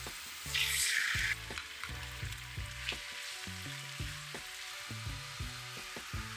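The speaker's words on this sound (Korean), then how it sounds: "소스를 넣고 30초 정도 볶아요" Sauce sizzles steadily in a pan as it is stir-fried for scallion oil noodles, with a brief louder hiss at the start and a low, continuous frying crackle close by.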